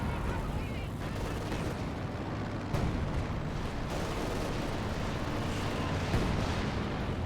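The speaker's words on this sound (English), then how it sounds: "Rocket strike here from Alphastrike." Rocket strike explosions in the real-time strategy game Company of Heroes 2, a sustained heavy rumble of blasts and gunfire filling the whole stretch, dense and steady with a few sharper impacts.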